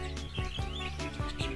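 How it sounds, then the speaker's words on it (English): Bright synthesized birds chirp in Super Robot Wars Z3, short repeated tweets over steady game music in a brief outdoor scene, with no talking. "Listen to the pretty birds chirping."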